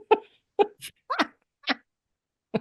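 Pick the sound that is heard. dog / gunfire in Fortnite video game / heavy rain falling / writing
dog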